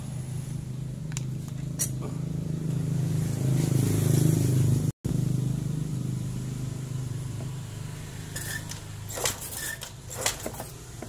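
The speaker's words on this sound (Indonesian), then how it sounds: "kita coba engkol dulu nih" Yamaha motorbike, a Mio, Fino, Jupiter Z or Vega ZR type with lost ignition, being kick-started: a steady low engine drone with a short break, then scattered clicks and knocks from the kick lever, no talk.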